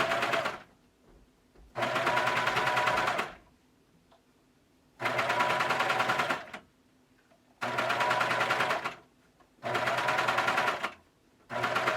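A sewing machine stitches Made for Mermaids Bonny leggings in four loud, steady bursts of rapid needle hammering, each lasting one to two seconds, separated by quiet pauses.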